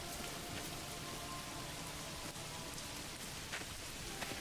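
Steady rain falls in a medieval village in the game Manor Lords, a soft, continuous patter of drops on surfaces with faint, scattered louder splashes and no voices.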